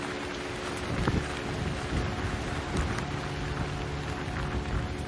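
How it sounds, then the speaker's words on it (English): Steady, heavy rain roars close by with strong gusts of wind mixed in on the Appalachian Trail, a dense continuous wash of noise with no voices. "The rain is bad. I think what's worse is the wind."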